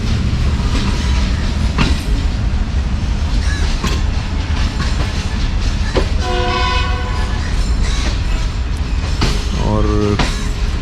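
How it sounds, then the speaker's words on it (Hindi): A passenger train rolls over a railway line near Sarai Alamgir station, giving a loud, steady rumble with rhythmic clatter and two horn blasts in the latter half, while a voice talks over it. "और कौशन के ऊपर पास हो रही है ट्रेन यहाँ से।"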